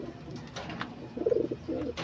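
Pigeons cooing in a coop while their eggs are checked, soft low throaty coos rising and falling in short bursts, fairly close, with faint rustling behind.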